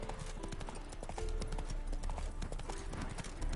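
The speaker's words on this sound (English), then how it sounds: "Spooking my horse." Horse hooves clip-clop steadily in The Witcher 3, a quick even rhythm of close, crisp strikes running the whole time over soft background game ambience.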